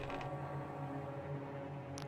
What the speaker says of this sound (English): They hear a creaking sound from the attic.